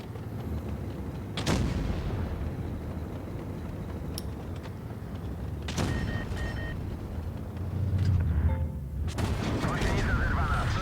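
Tank cannons fire in the World of Tanks Blitz mobile game, with three heavy booming shots spaced several seconds apart over a steady rumble of engines and battle ambience.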